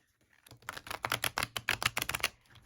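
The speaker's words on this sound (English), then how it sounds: "let's go ahead and give these cards a shuffle" A rapid series of crisp, papery riffling clicks, close and fairly quiet, as thick-cardstock tarot cards are shuffled, lasting about two seconds.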